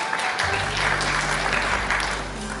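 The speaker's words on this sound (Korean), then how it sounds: "박수로 맞이해 주십시오." Steady audience applause at a startup investment forum in a hotel convention hall, dense and sustained as a presenter takes the stage, with a low hum underneath.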